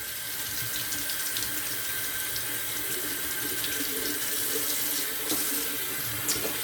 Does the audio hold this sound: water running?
yes